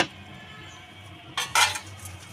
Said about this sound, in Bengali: এখন আমি ঢাকনাটা খুলে নেব।